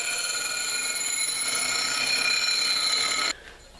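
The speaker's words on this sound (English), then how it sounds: "so a little grinder time" An angle grinder cleans up the 45-degree cut end of a steel pipe, a steady high-pitched whine with bright ringing overtones running close and loud for about three seconds before cutting off abruptly.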